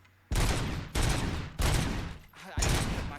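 Gunfire from a weapon in the video game RoboCop Rogue City, loud broadband bursts in four sustained volleys separated by brief pauses, close and dominant.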